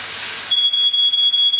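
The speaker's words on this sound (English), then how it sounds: "That is my fire alarm, and it annoys me a lot." A shrill, high-pitched smoke alarm tone starts abruptly and sounds continuously with rapid pulsing, loud and close, in a kitchen while cooking a quiche.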